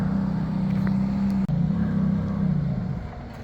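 A gated-manual Ferrari 430 engine runs with a steady low drone, cuts out abruptly for an instant, catches again briefly, then sags and fades away as the car stalls.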